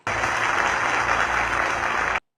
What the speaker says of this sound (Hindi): यह घोषणा होते ही सभा स्थल बसपा वर्करों की तालियों से गूंज उठा।